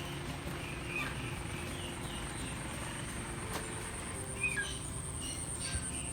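Birds at a tourist spot in Nueva Ecija give a few faint, sparse chirps over a steady outdoor hum, with no one speaking.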